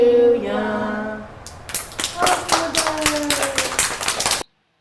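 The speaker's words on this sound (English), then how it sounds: "And then we just have clapping at the end of the song" A sung syllabary song line fades, then a small group claps in quick, crisp strokes for a few seconds before stopping abruptly.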